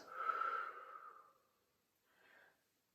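Two breaths taken during an upper back stretching exercise: a long audible breath close to the mic, then a shorter, softer one after a pause.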